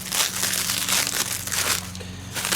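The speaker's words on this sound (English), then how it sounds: "All right, unwrapping this replacement transmission." Packaging from a replacement transmission for a Toro Recycler lawnmower crinkles and tears as it is unwrapped by hand, loud, close bursts of rustling plastic and paper in quick succession.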